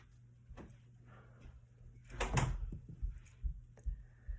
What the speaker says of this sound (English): make sure you shut my door